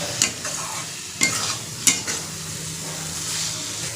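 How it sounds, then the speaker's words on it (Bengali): Small eggplants frying in spiced oil with turmeric, coriander and chili powder, giving a continuous sizzle broken by three sharp spatula scrapes against the pan, close and clear with no voices. "এরপর দিয়ে দেব বেগুন ভাজি বেগুন হালকা একটু নাড়াচড়া করে নেব"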